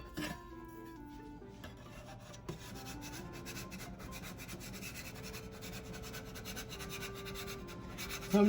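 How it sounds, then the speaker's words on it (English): Pie crust edges being scraped and worked around inside a pie dish for a lemon meringue pie: a soft, continuous rubbing and rasping close up, quiet, with faint background music tones. "So I'm just working over the edges a little bit, just kind of scraping in there."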